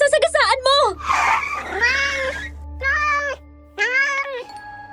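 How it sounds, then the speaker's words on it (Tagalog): A black cat meowing loudly and close, several drawn-out wailing meows in a row with brief pauses between them, over a low steady hum. "Gray, may itim na pusa."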